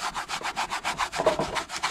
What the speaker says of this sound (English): I'm just giving these little fellas a little bit of a rub.